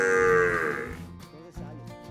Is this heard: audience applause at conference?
no